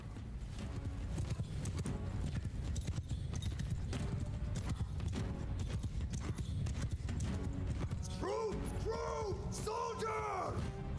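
Rapid clip-clop of galloping horse hooves in the video game Mount & Blade II: Bannerlord, in a dense rumbling mix, with shouts and whinny-like calls rising near the end.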